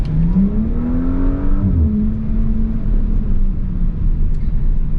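A new Audi S5 engine accelerates, its loud, close drone rising in pitch, briefly dipping at a gear change, then settling into a steady strong hum over road rumble.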